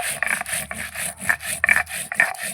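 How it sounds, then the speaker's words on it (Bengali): Whole cumin seeds are ground by hand on a grinding stone, rhythmic gritty rubbing strokes repeating close up at a steady back-and-forth pace, with no voices. "প্রথমে বেটে নেব গোটা জিরে।"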